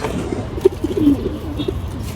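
A pigeon cooing in a loft, soft throaty coos and a short burst of low calls close by, with faint background noise and no talking.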